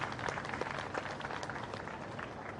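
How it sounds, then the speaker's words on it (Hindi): Audience applause rising to thank a youth team at a Hindu organisations' gathering, a dense, steady wash of many hands clapping throughout. "आप सब लोग धन्यवाद ज्ञापित करें ताली बजाकर।"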